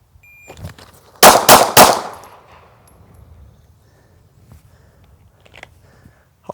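Three rapid pistol shots fired in quick succession during a shot timer drill at a range, loud and sharp, then a faint trailing beep and quiet.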